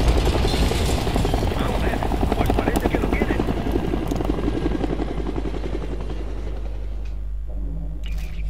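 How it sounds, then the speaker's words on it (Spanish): Helicopter in the Call of Duty Black Ops 6 video game thunders with a loud, rapid rotor chop and engine roar that holds steady, then briefly thins near the end. "Pues sí, aún tiene un helicóptero"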